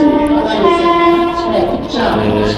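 A train rumbles loudly nearby with a sustained horn-like tone and rolling rail noise as it pulls into Gwalior station.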